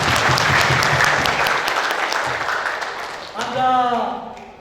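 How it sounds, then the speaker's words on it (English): A crowd of project workers at a World Safety Day gathering claps loudly together for about three seconds, the applause fading before a voice cuts in at the end. "let's give a round of applause for each and every one of us"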